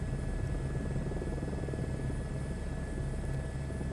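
A helicopter hovers and pedal-turns in Microsoft Flight Simulator 2024, giving a steady, loud cockpit drone of rotor thump and engine hum that stays constant throughout, with no talking.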